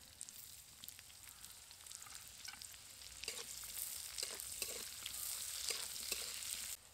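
Chopped onion and black cumin seeds fry in hot oil for a Bengali dried-fish dish, a steady close sizzle with occasional crackles and pops that grows slightly louder toward the end, with no talking.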